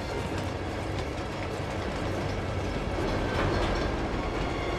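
A moving train in the video game Uncharted 2, with a steady rumbling rail noise and faint clickety-clack of wheels running continuously at an even level, no speech.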